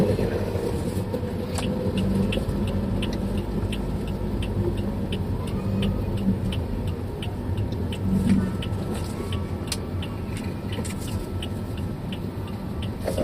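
A car on a road during a driving lesson gives a continuous engine drone and road rumble, close and fairly loud for the whole stretch, with faint clicks on top and no talking.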